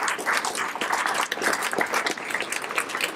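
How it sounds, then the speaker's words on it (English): Audience members at the launch of an Ashtavakra Gita music CD break into a sustained round of applause, a full, even wash of many hands clapping without a pause. "with all the great applause"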